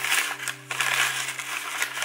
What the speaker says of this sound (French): Cette fois, c'est dans un petit sac en papier.